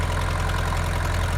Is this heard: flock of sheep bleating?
no